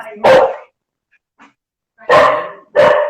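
A pet dog barks loudly and close by indoors, one sharp bark, a pause with a faint yip, then two more full barks in quick succession.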